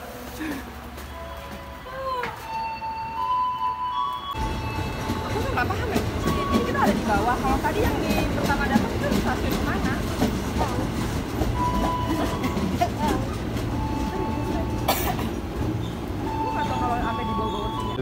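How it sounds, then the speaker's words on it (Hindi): KRL Commuter Line electric train in Jakarta heard from inside a carriage, a loud continuous rumble and rattle of wheels on track with people talking over it. "काफ़ी लोग ट्रेन के अंदर मौजूद हैं लेकिन ट्रेन बड़ी ज़बरदस्त किस्म की बनी हुई है"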